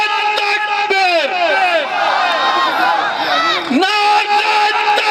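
A convention crowd at a Jamaat-e-Islami youth gathering in Layyah chants Allahu Akbar in reply to a slogan, many voices shouting in loud, ragged unison in repeated bursts, with a short dip near the end before the roar returns.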